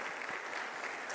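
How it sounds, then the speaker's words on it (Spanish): Audience applause for the director of a political and social sciences faculty at a formal agreement-signing ceremony, a dense steady wash of many hands clapping throughout, with no talk. "Un aplauso,"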